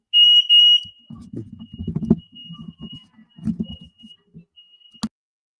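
Household smoke alarm beeping, two loud piercing shrill tones at the start, then fainter intermittent chirps continuing beneath someone speaking, ending with a sharp click.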